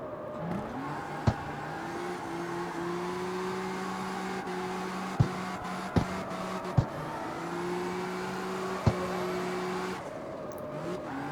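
The Tokyo Drift Mustang in the CarX Street racing game holds a steady engine drone while drifting, with sharp gear-change clicks punctuating the slide and tire squeal beneath, no talking.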